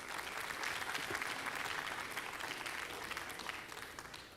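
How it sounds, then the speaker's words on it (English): A steady, dense round of applause from the audience at an annual community awards gala, heard fairly faint and distant, with continuous clapping that tapers slightly toward the end. "Give them a big round of applause."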